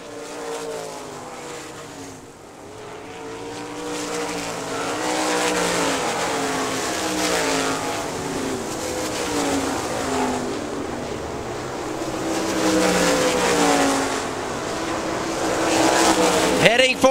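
Race cars roar around a short oval track on the final lap toward the checkered flag, engines loud and sustained with rising and falling passes throughout, a race announcer talking over the din.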